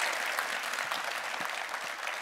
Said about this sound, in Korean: 시원한 답변에 박수 부탁드립니다